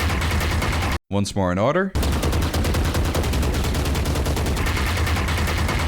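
Rapid automatic gunfire from a video game weapon with a cosmetic skin, a dense, loud, evenly spaced stream of shots that pauses briefly while someone speaks, then resumes steadily.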